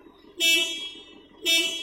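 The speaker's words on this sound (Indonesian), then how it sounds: "Di sini klakson masih berbunyi dengan baik" A car horn sounds twice during a routine service inspection, each a steady blare of about a second with a short gap between, close and loud.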